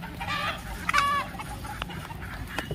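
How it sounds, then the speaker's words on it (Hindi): Chickens on a mixed farm with cows clucking and calling at moderate distance, with one sharper rising cackle near the start and scattered softer clucks over a constant background hiss. "ये देखिए मुर्गी"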